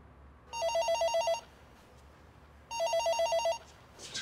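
A telephone rings in two clear bursts of rapid trilling bell tones, each lasting under a second with a pause between, in a quiet room with no talk.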